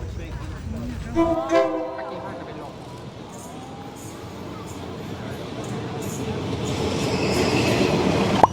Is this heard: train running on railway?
yes